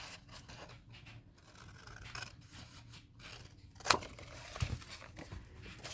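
Quiet snipping and paper rustle as a craft piece for a wheel of fortune die is cut with scissors, a few close cuts with one sharper snap near the middle, no talking.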